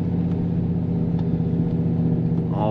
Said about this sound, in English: time to do some off-roading in the Aston.